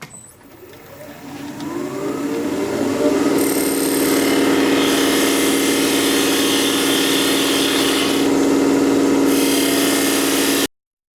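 A wood lathe spins up and keeps turning a sycamore vase blank, a rising motor whine that settles into a steady loud drone with brief brighter scraping passes of the tool, then stops abruptly.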